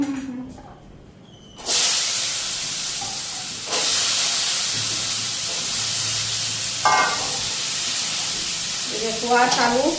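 Potatoes with green chilies and peas sizzle and fry in a pan in a home kitchen, a steady loud hiss that jumps up as ingredients are added, with occasional stirring clinks.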